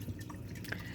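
Water trickling from a small waterfall inside a home fish tank used for aeration, a faint steady drip and patter close by with no talk.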